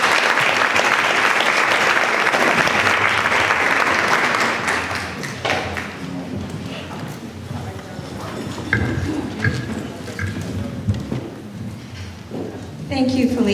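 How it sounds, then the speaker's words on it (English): A warm round of applause from an event audience, loud and dense for about four seconds, then thinning into scattered claps and crowd murmur with voices and movement underneath. "please give her a warm round of applause"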